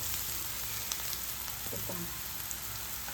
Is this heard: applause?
no